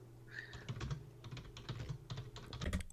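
Rapid typing on a computer keyboard, a dense run of close, crisp key clicks in uneven bursts with no voices.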